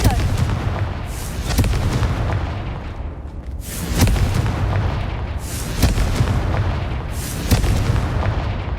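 Repeated Confringo fire spells cast in Hogwarts Legacy, each a loud booming blast with a crackling burst, arriving in a steady series of about five heavy impacts over constant game ambience.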